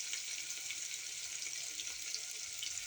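Sliced onions sauté with a pinch of salt in a pan while cooker biryani is being made, giving a steady, faint hiss and sizzle that carries on evenly with no pauses.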